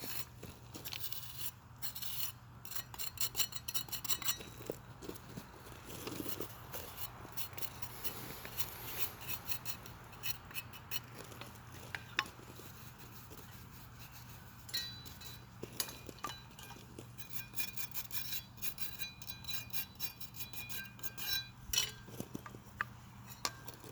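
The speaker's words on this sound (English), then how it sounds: "Back to the trusty old chipping brush." A chipping brush scrapes carved concrete on a pool waterfall feature, giving quiet, close, irregular scratchy strokes and gritty rasps that come in short bursts with brief pauses.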